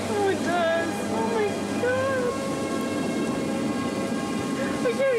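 An approaching tornado roars like a freight train, a loud, constant broadband rumble that fills the whole clip, with faint rising and falling wails drifting over it.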